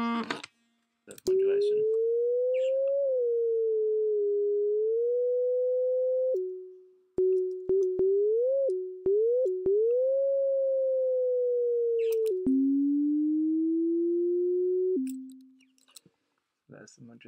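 Ableton Operator synth voice with heavy modulation, a thin sine-like tone gliding, wobbling and stepping between pitches, with clicks at the note changes and brief gaps, fairly quiet and alone.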